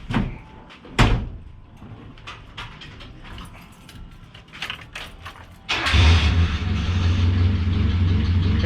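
A 1988 Ford Festiva starts up with a door thump and short clatters, then the engine catches and settles into a loud steady idle as it begins backing out, close by.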